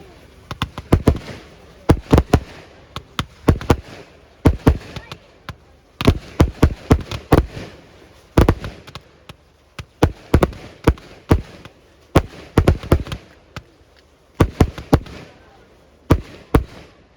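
A fireworks display in 2024, sharp loud bangs and crackling bursts going off in irregular clusters, with pauses between volleys and some voices in the background.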